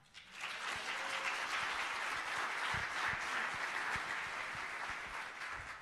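Audience applause at a food leadership conference reception, a dense, steady wash of clapping from many hands that holds at full strength for several seconds without pause.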